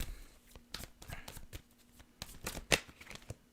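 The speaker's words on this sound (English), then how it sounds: "let's continue shuffling here" Tarot cards shuffled by hand in a quiet room, a run of soft riffling and slapping bursts in uneven rhythm, close and alone with no talk.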